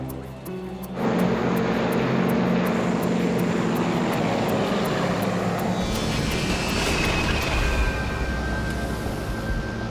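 An airplane engine drones in flight, a loud, steady roar with broadband rushing noise and a rising whine, close and continuous throughout.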